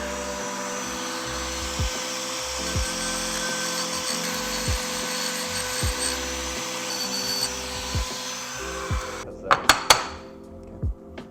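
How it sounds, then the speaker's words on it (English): A power tool chamfers the edges of an engine piston, giving a steady whining grind with a repeated rhythmic knock, then brief sharp metallic clatters near the end. "So we're going to start by adding slight chamfers around this area of the piston."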